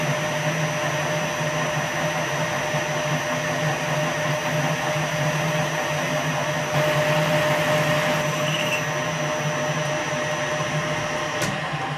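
A Victor lathe runs steadily while facing the bottom of a drum brake, its even mechanical drone and hum holding throughout, with a faint rise near the end and no talk.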